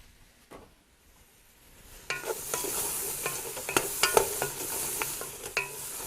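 Sliced mushrooms sizzle and fry in a pan with roux, with steady frying hiss and repeated close spoon taps and scrapes as they are stirred, clear and without speech.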